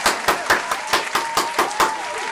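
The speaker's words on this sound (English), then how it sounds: "Clap it up." Audience applause in a crowd, a run of sharp, closely spaced claps with a brief rhythmic pulse, steady and moderately loud.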